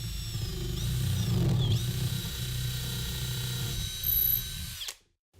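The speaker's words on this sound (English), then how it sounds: "I'm using a 9/64 drill bit for the pilot hole, and I'm just going to drill this all the way through." A power drill with a 9/64 bit bores a pilot hole straight through a closet dummy doorknob, giving a steady, close, loud whine for about five seconds that cuts off sharply at the end.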